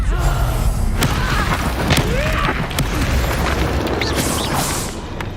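Confringo blasting spell explosion in Hogwarts Legacy, a dense, loud rumbling blast with thuds and pops amid busy combat noise, sustained throughout.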